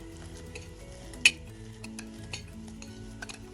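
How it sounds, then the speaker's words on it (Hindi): A spoon stirring milky kheer in a pan over a medium flame, with gentle scraping and one sharp metallic clink, quiet and close with no talking. "साथ साथ चम्मच से खीर को हिलाते जाएंगे ताकि जो खीर है वो नीचे पैने के साथ जले ना"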